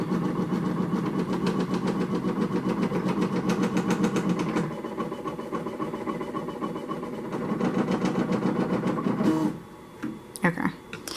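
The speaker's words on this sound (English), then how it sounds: "if you press that, your machine will follow exactly how it's gonna stitch out" A Ricoma EM-1010 embroidery machine stitches out a bunny ear design with a fast, steady mechanical chatter that pauses briefly midway, resumes, then stops with a few clicks near the end.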